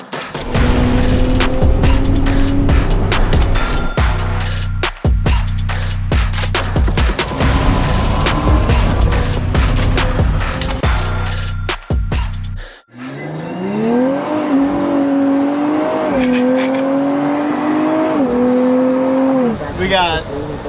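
A Nissan Z Nismo sports car drives hard on a long rally run, its engine loud and close, rising and falling through revs with a sharp squeal or gear change, while people talk over it.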